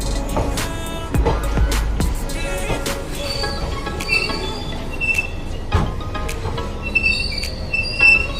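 A passenger train rolls into Mathura station at night, wheels squealing and rattling over rails close by, with steady rumbling and scattered clanks and screeches throughout.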